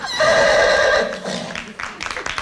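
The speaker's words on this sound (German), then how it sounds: "Also habe ich ein Pferd vor die Tür gestellt, das wiehert, wenn jemand kommt." A horse gives a loud, close whinny lasting about a second, followed by softer snorting and faint rustling noise.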